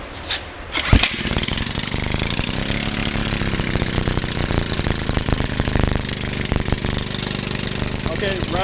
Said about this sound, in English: This is just a 5 horsepower John Deere engine